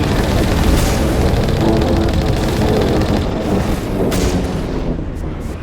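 Loud, dense roar of cannon fire in Mass Effect, a continuous rumbling barrage with heavy booms blending together and no clear gaps.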